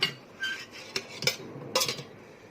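Thick-cut brinjal pieces tipped into a bowl for marinating, giving a few soft clinks and clatters against the dish, close and moderately loud with quiet gaps between.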